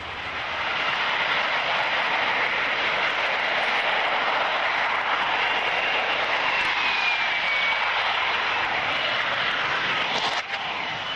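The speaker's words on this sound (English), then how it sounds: "a real-life example of engine failure during an air show" An aircraft engine drones loudly and steadily during an air show, a continuous near roar with a slight pitch drift and a brief dip near the end, no voices.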